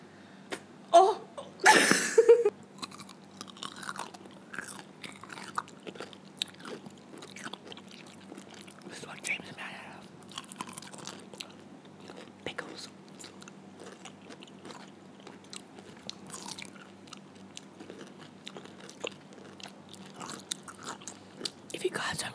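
A loud crunchy bite of a pickle up close, followed by quieter chewing and soft mouth sounds for a long stretch.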